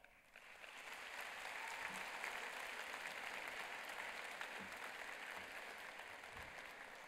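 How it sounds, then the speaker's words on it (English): High school graduation crowd applauding in a large venue, building quickly to a broad sustained wash of clapping that holds steady for several seconds, heard faintly as if from a distance. "why don't you give them an applause right now?"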